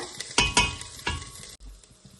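Ginger garlic paste fries in a pan, giving a close, steady sizzle broken by a few sharp knocks and scrapes of stirring; the hiss thins out briefly near the end.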